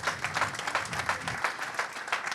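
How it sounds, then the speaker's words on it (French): Audience applause at a business networking awards ceremony: steady, dense clapping from a sizeable crowd in a hall, carried evenly for a couple of seconds with no voices over it. "Vous pouvez l'applaudir évidemment."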